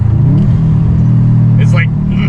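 Subaru STI with a Stage 2 tune blipping its engine on a downshift, a loud steady rumble with rising revs inside the cabin, a brief mechanical chirp near the end.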